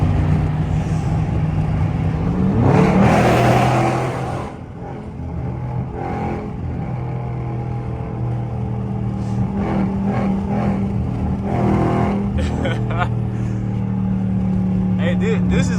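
A catless Dodge Charger Scat Pack roars loudly from its exhaust, with a big rev burst early on and then a rumbling drone and further throttle blips. People talk over the engine noise.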